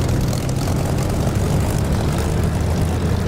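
A Spitfire's propeller engine in the DCS flight simulator runs loud and steady at the start of takeoff, a continuous droning roar with no pauses and no voices over it.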